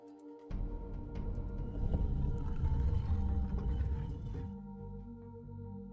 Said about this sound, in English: The last one's the whale.